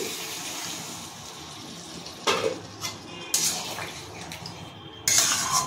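Soybean boiling water, from soybeans cooked with milk, ginger and garlic, is poured into a pan of spices, bringing sizzling splashes and clinks of a utensil against the pan at close range.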